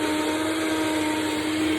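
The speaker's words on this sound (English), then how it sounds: "I would turn the blender off" A Vitamix blender runs steadily at high speed, a loud continuous motor whine with churning noise throughout, no pauses.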